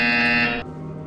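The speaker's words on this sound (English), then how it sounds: "You will hear a buzzer." An electronic buzzer in the virtual-reality puzzle game Portal Stories VR, a single loud, harsh tonal blast lasting about half a second before cutting off to a quieter fading tail.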